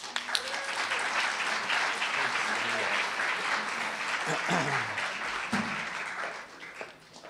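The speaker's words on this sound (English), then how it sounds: "Let's give them a round of applause." Sustained applause from a conference audience greets panelists walking onstage at a 2015 Food Tank agriculture research and policy event, dense clapping with some voices murmuring underneath before it tapers off near the end.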